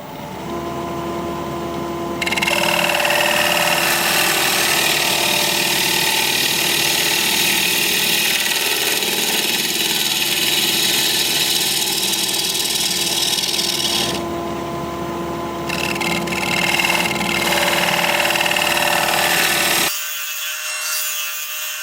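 Sassafras wood spinning on a lathe as a tool cuts and scrapes it, a loud continuous rasping hiss over the motor hum that pauses briefly midway and stops near the end.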